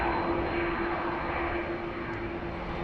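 Qantas Airbus A330-200 jet at Sydney Airport, a continuous loud engine roar with a steady whine, even throughout and heard outdoors without talk.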